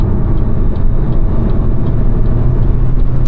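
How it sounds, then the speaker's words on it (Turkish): Steady broadband road and tyre roar inside an Opel Insignia 1.6 CDTI Grand Sport cruising at 90 km/h on 18-inch wheels, a continuous low rumble with a faint engine hum and no talking. "90'la giderken bir yol sesine bakalım. Arkadaşlar şu anda yol sesi var."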